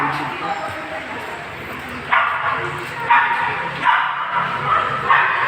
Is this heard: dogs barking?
yes